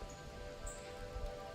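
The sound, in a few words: rain outdoors on a cloudy day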